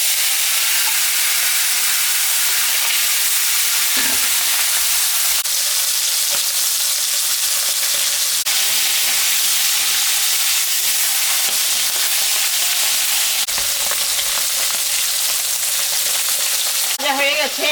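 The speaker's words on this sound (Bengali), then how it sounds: "গরম হয়ে গেছে, মাছটা এখন আমি মাথাটা ভাজে নেব" A rohu fish head fries in hot oil in a home kitchen pan, giving a steady, close, dense sizzle that crackles throughout with brief spits and pops, and no talking over it.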